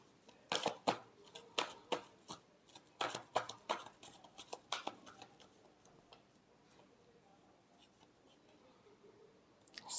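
Tarot cards are shuffled by hand in a quick burst of crisp, close riffling slaps, then the sound thins into soft, sparse card handling near the end.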